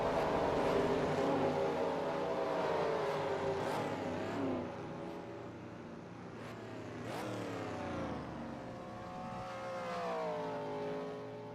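Dover race in NASCAR Racing 2003 during green-flag pit stops, several race car engines whine past in rising and falling sweeps with one steadier engine tone later, fairly quiet, no talk.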